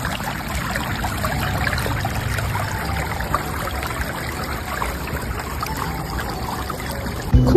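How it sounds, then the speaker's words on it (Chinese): Clear snowmelt water trickles in a small stream toward a lake, giving a steady, even babbling with no speech. It is close and continuous, with a faint airplane drone overhead. "静静的拍那个流水"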